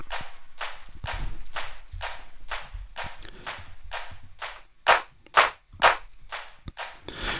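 Clap samples in an Ableton Live mix hit in a regular rhythmic pattern, about a dozen sharp, dry claps spaced evenly, with three louder, brighter ones near the end over faint low backing.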